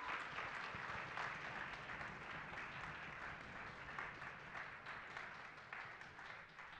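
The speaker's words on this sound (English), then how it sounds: "let's give a big round of applause for Mr. Guarini, Mr. Norris, and Ms. Frank R" A school concert audience applauds the teachers at a Glen Cove High School Sinfonia performance, with continuous, even clapping from a sizable crowd that goes on throughout.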